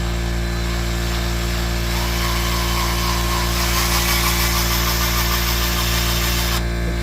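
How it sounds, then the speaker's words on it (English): A power drill bores a hole through a car fender, a steady, loud whirring drone with a constant low hum that holds throughout before cutting off near the end, close up and alone. "now it's time to drill"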